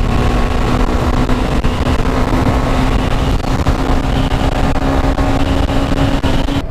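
A carbureted motorcycle engine drones steadily at about 86 km/h with a constant pitched hum and wind noise, loud and continuous throughout.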